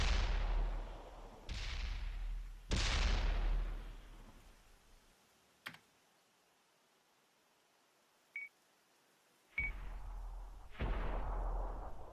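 Tank cannon fire traded in a multiplayer tank battle game, several sharp loud booming shots with decaying tails, separated by quiet gaps and a couple of short electronic beeps.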